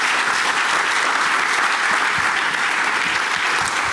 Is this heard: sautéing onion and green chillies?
no